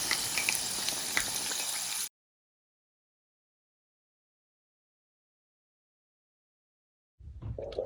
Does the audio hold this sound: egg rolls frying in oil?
yes